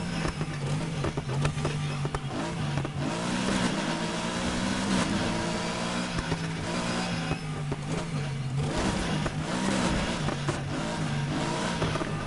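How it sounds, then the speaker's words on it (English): Car engine in the racing video game Need for Speed Heat, a continuous loud drone with rising and falling revs and shifting pitch, no talk. "This is the best sounding engine."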